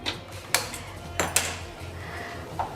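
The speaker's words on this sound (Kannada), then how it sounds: "ಮೊಟ್ಟೆ ಉರಿಯೋಕ್ಕೆ ಬಾಣಲಿ ಇಡ್ತಾ ಇದ್ದೀನಿ" A metal frying pan set down onto a stove for cooking eggs, several sharp clanks and knocks spaced apart with a low hum in between, close by and without talk.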